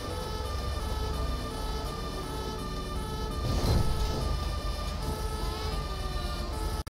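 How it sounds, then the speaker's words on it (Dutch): A three-tone fire truck siren in a video game (GTA 5) cycles through its tones continuously over engine noise, loud and steady, with a brief louder burst midway, heading to a factory fire. "Lelijke sirene had, een drietoon."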